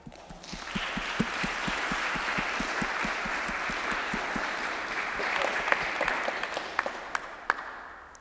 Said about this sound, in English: Please join us for a round of applause for Mireille.